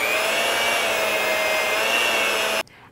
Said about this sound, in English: Now I'm going to turn on my electric mixer, and I'm going to be beating this for 2 minutes on medium speed.